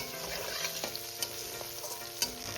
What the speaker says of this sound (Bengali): আমি এটা একটু হালকা ভেজে নেব